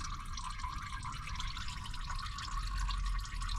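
Motor oil drains from a Toyota Tundra during a driveway oil change, a continuous close stream splashing into a catch pan, steady throughout with no talk.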